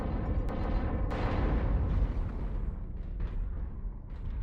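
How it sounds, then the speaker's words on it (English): Artillery strike in the MechWarrior video game: a loud, dense rumble of booming impacts with sharp cracks, dying away over a few seconds. "Artillery strike activated."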